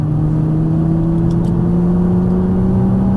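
A Nissan GT-R engine pulls hard at full throttle on a racetrack, a loud steady mechanical drone with a slowly rising pitch that continues unbroken with no talk.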